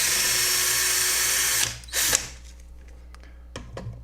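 A power drill drives screws into a Traktorino unit, a loud steady whir that runs for more than a second, stops, gives a short burst, then leaves faint clicks and handling sounds close by.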